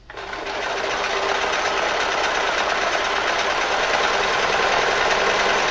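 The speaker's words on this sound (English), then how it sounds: "Drop that down and run it through the machine again." A sewing machine stitches a trouser belt in one continuous fast run, a close, even mechanical rattle that starts abruptly and holds steady with no talking.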